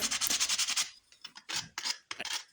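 Sandpaper rubs quickly back and forth along the edges of a scrap wood board, first in a rapid run of rasping strokes, then in several separate short scrubs with pauses, close and quiet.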